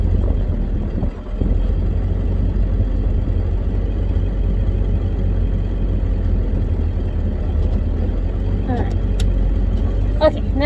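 Steady low road rumble of a car driving on an evening with smoke in the air, a continuous engine and tyre drone with a brief dip near the start and a few faint clicks and voice sounds near the end.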